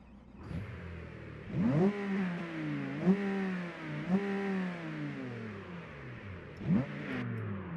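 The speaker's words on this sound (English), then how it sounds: "let's hear the engine" A car engine in a modded racing game revs up repeatedly, four or five rising, whining pulls with falling pitch between them, close and fairly loud against a low idle, no speech.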